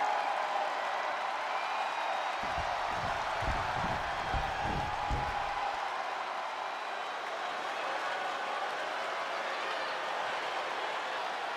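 Arena crowd at a WWE event cheering for wrestler Jey Uso, a steady roar of many voices with a burst of rhythmic clapping or stomping partway through, continuous and moderately loud throughout.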